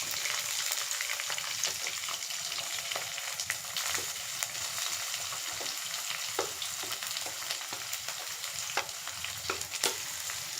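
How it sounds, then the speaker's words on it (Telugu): Green chili and onion sizzle steadily in hot oil, a close, continuous crackle with occasional sharper pops and stirring, with no voices. "కొంచెం ఫ్రై అయిన తర్వాత పచ్చిమిర్చి, ఆనియన్ కూడా వేసేస్తాం."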